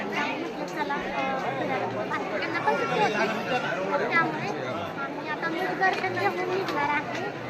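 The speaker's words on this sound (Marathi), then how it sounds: "तर गर्दी खूप आहे जवळपास सुद्धा" Crowd chatter at a busy place, many voices babbling together steadily at close range with no single speaker standing out.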